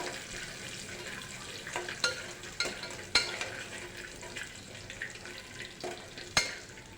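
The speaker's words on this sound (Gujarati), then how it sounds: "એ સિંગદાણા એડ કરી દઈશું અને તેને બરાબર હલાવીને શેકી લેવાના છે" Peanuts roast in a pan for moraiya khichdi while being stirred, giving a low dry rustle with occasional sharper scrapes and knocks of the spoon against the pan, fairly quiet and without talk.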